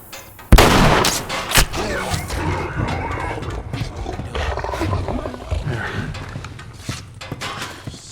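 A bloater, a long-infected creature from the game The Last of Us, gives a loud, sudden roar, followed by continuing growls and heavy thuds amid combat noise.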